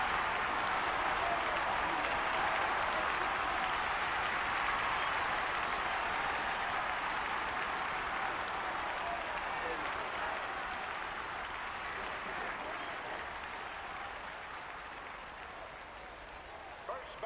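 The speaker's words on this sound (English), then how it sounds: "Listen to this crowd." A stadium crowd in All-Star Baseball 2002 on GameCube roars after a 401-foot home run, a sustained broad cheer that stays loud throughout and slowly fades near the end.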